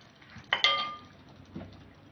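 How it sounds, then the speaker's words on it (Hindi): Butter chicken being served from a pan into a dish, with two sharp metallic utensil clinks close together near the start and a softer knock a second later, fairly quiet. "अब मैं इसको डिश आउट करूंगी"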